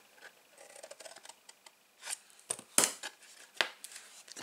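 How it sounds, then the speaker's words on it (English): Small craft scissors snip paper on the flap of a small reinforced trinket gift box, giving a few sharp, close clicks and cuts spaced irregularly between quieter handling noises. "I'm going to have to get my little scissors on there."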